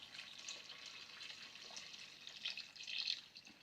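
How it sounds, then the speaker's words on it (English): Stock is poured into a pot of spiced red lentil and carrot soup, giving a soft, continuous liquid splash and trickle that swells near the end, faint and close with no talk. "so I'm going to add the stock now to the soup."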